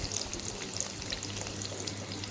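Onions frying in a pan for spinach dal give off a steady, close sizzle and crackle, with fine popping spatters throughout and no voices.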